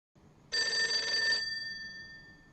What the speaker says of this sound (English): We've seen this phone too.